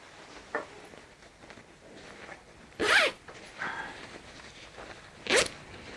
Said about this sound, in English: The zipper on the bug net,